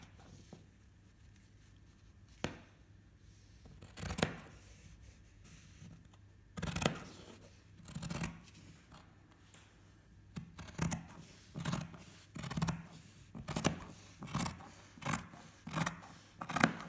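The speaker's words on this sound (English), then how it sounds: "Leave your fabric on the table while you're cutting it." Fabric being cut with scissors on a table, faint close snips that start sparse and settle into a regular rhythm of soft cuts, with nobody speaking.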